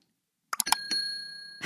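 A notification bell dings once, a bright layered chime that rings out clearly and fades slowly on its own after a short quiet start.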